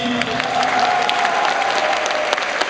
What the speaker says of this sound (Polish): Gorące brawa dla zwycięzczyni.